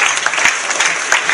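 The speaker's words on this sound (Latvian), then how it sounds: "ar aplausiem sagaidām uz skatuves" Theatre audience clapping to welcome a volunteer onto the stage, a brief, loud burst of many hands applauding up close.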